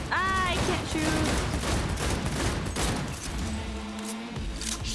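Rapid bursts of gunfire and explosions fill a firefight in Cyberpunk 2077, while voices shout over the shooting.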